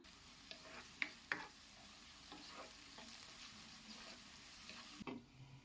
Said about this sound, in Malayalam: ഇനി നമുക്ക് നല്ലതുപോലെ ഒന്ന് വഴറ്റിയെടുക്കാം